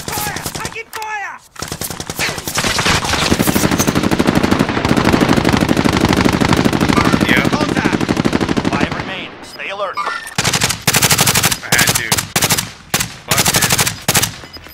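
Sustained automatic gunfire in Call of Duty: Modern Warfare, loud and dense rapid bursts rattling for several seconds, then easing off before choppy stop-start bursts near the end, with shouted voices mixed in.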